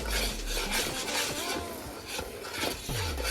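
Mixing cardamom powder into a sweet coconut filling for Tamil lavariya, with steady scraping and clinking of a spoon against a pot, close and continuous.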